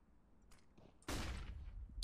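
Gunfire in Counter-Strike: Global Offensive during a streamer league match, a dense loud burst of shots kicking in after a quieter stretch with a few faint earlier cracks.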